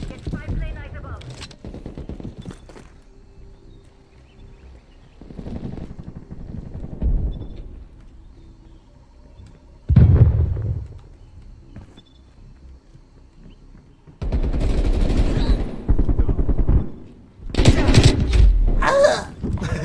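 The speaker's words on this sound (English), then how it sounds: "Get him, sentry gun." Automated sentry gun firing in a Call of Duty: Black Ops Cold War match, loud bursts of rapid gunfire coming in clusters between quieter stretches.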